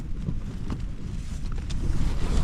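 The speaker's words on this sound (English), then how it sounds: "as you can see, the old wind's picked up." Strong gusts roar and buffet the microphone continuously at a winter wild camp in an abandoned quarry with winds up to 45 mph, rising louder toward the end, with no talking.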